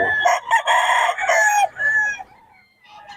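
A stag rooster gives one loud, close crow, a long strained cock-a-doodle-doo that breaks off and trails into a brief quieter call.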